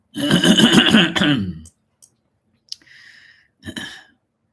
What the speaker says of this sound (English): Now I'm clearing my throat like 50 times now